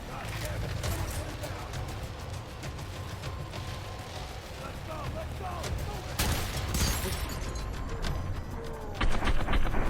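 Video game gunfire in F.E.A.R. 3 keeps up dense, continuous shooting with sharper bursts and booms, under excited talk throughout.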